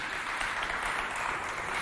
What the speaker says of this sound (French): applaudissez bien fort pour vous